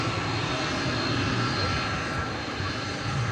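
An MD-11 jet arrives from Louisville at DFW Airport at night, its engines a steady broadband roar that holds at an even level throughout.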